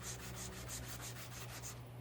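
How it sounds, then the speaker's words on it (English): An electric sander works across a surface, giving a quick, regular series of raspy, hissing strokes, close and fairly quiet, with no talking. "I have to take the sander to this"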